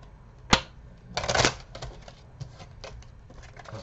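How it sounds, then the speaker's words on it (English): Tarot cards are shuffled by hand, giving a sharp snap followed by a quick riffling burst and then several lighter papery taps and flicks, close and fairly quiet. "let me shuffle these"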